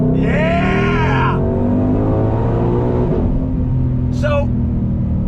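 A 2021 Ford Shelby GT500 V8 with a Tremec 7-speed DCT accelerating hard on throttle, a loud continuous engine roar heard from inside, with a person's excited vocal outbursts over it.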